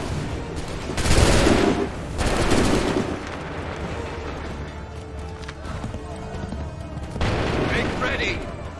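Musket volleys crack out in Assassin's Creed III, two loud booming bursts early and another near the end, amid battlefield ambience, with shouted voices in between.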